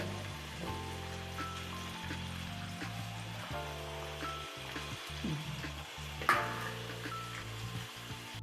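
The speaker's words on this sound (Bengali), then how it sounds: "ফুলকপিগুলো দিয়ে আমি সুন্দর করে একটু লাল লাল করে ভেজে নিব" Cauliflower florets frying in a pan for a hilsa fish curry, making a continuous soft crackling sizzle that stays faint and close with a low steady hum beneath, with no talking.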